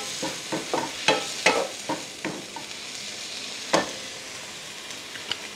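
Mushrooms cook in a pan with onion, garlic and cooking red wine, a low steady sizzle broken by scattered clinks and scrapes of stirring.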